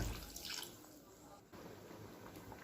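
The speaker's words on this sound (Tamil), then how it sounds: "இப்போ நம்ம தண்ணி ஆட் பண்ணிப்போம்." Water poured into a pan of spicy Andhra-style crab curry in a home kitchen, a soft continuous splashing pour that is faint and steady for a few seconds.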